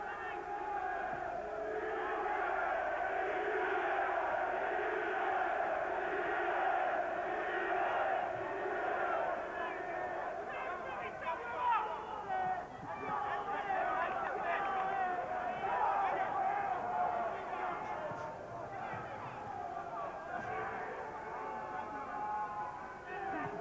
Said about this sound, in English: everything that Schwer does will be wildly cheered by this crowd